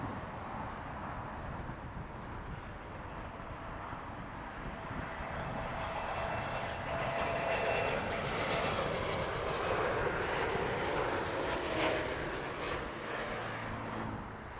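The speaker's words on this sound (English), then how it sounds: "We have the Dreamliner of China Southern Airlines." A China Southern Airlines Boeing 787 Dreamliner at Heathrow makes a distant jet roar that slowly swells, holds and eases off, heard alone with no voices.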